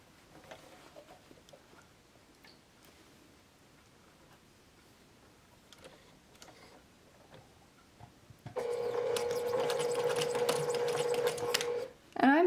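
A domestic sewing machine stitches the hem of a rag doll. A few seconds of faint handling noise come first, then a loud, steady, close motor whir with rapid needle ticking that stops abruptly near the end.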